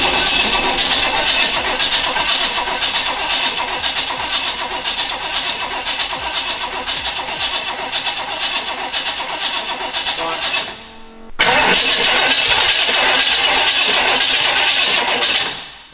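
A V8 engine in a 850 bhp Mk1 Ford Escort rumbles loudly and steadily while cranking and catching, cuts out briefly near the end, then roars back at full volume before fading.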